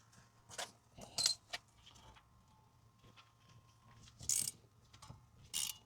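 A 15 mm wrench works a brake bolt on a 2010 Buick Lucerne, giving sparse metallic clinks and ratcheting clicks in short separated bursts over a quiet background.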